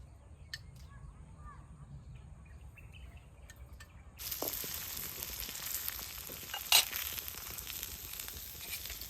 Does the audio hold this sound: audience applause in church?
no